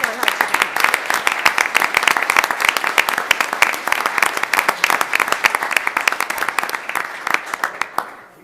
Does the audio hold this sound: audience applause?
yes